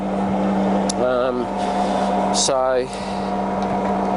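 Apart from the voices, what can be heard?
Colchester Student 1800 centre lathe running forward and reverse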